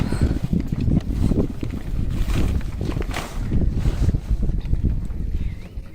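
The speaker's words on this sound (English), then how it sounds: "whilst I am pulling it up, the sails go up" Sails going up on a Maxi 68 sailboat, with rustling, rope handling and flapping canvas mixed with strong wind buffeting across the microphone, loud and close.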